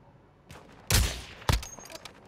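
Two sharp gunshot bursts in a video game, roughly half a second apart, fired toward the player over a quiet background, the second shorter than the first.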